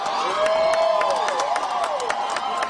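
A large outdoor crowd at a political rally in Homa Bay cheers and claps steadily throughout, with scattered whistles and whoops rising above the sustained roar.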